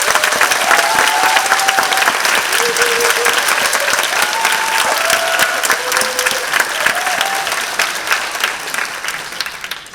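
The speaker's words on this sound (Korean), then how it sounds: "격려의 박수 한번 부탁드릴게요." Steady, dense audience applause fills a university hall during the final round of a student stage competition, loud and sustained throughout while a person speaks over it.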